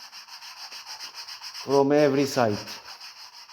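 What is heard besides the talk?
sanding a car bumper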